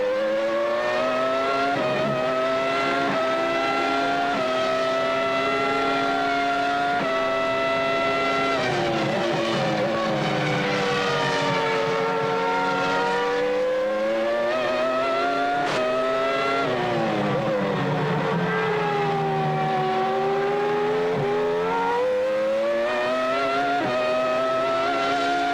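Formula 1 race cars at the 1998 Hungarian Grand Prix scream past one after another, high engine notes rising and falling with gear changes and Doppler sweeps, loud and continuous.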